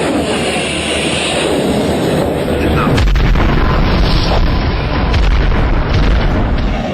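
Sea Wolf missiles fire one after another from a Royal Navy warship in a loud, continuous rushing roar. A heavy boom lands partway through and deepens the blast noise.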